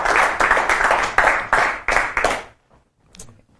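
Applause from a magic show audience for the helpers, a burst of many hands clapping in quick pulses for about two and a half seconds before cutting off into near silence with a faint stray sound.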